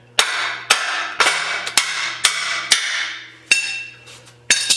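Sharp metallic hammer strikes, about nine in a steady rhythm, each ringing briefly before the next, close and loud with no talking.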